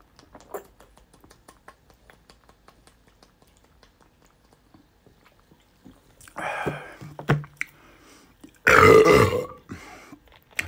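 A loud, drawn-out burp after drinking Pepsi Max from a 3-litre bottle follows a quieter first belch and scattered small mouth and handling noises in a quiet room.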